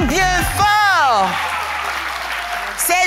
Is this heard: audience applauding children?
yes